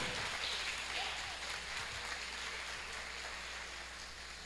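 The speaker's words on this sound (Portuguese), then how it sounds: "Aplauda o Senhor." A church congregation claps together during worship, a dense, even wash of applause that holds steady throughout, fairly distant and sustained without pause.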